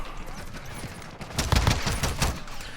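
Rapid gunfire from the 9mm Daemon in a video game: a quick run of sharp, closely spaced shots in a steady burst over ambient game noise, fairly loud and near.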